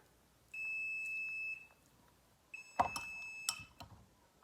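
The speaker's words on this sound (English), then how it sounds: "that is my timer for the custard." Kitchen timer for custard beeping: one long steady electronic tone, then after a pause a second tone cut off by clattering handling sounds and a few short clicks nearby.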